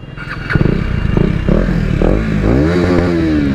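A KTM Duke 250 motorcycle engine close by, revving hard with sharp rising roars and rattly exhaust pops, loud and aggressive.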